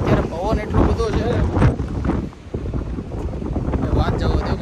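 Strong wind blows at Dwarka near the seaside Bhadkeshwar Mahadev temple, buffeting the microphone with a loud, low, gusty roar while a person talks over it.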